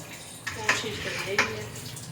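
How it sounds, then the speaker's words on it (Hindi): During Diwali house cleaning, a stream of running water hisses and splashes steadily nearby, with a couple of sharper surges of spray, while a voice is faintly present underneath. "और पानी की धार वैसे चला रहे हो"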